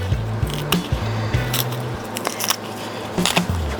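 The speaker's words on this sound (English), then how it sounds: "Take all the green peel of the plantain with your fingers." Green plantain skin is peeled off by hand, giving close, sharp crackling and tearing snaps in short bursts over a low steady hum.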